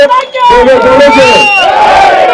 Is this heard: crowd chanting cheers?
yes